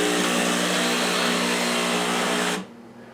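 Breville coffee machine grinding beans: a loud, steady, high-pitched whirring grind close by, running continuously for about two and a half seconds before cutting off abruptly into quiet.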